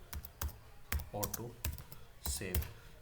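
Rapid keystrokes tapped on a computer keyboard while changing an auto save setting in a code editor, a run of sharp clicks in uneven bursts, quiet and close.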